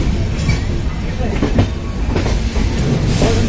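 A train arrives at Udhampur station, heard from on board as a steady rumble with rhythmic clickety-clack of wheels over the rails.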